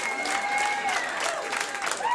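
An audience claps steadily, a dense patter of many hands, with a voice audible over the applause.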